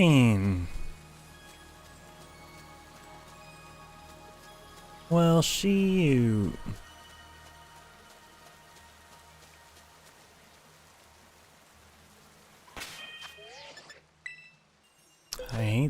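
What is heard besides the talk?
rain weather in video game Pokémon Violet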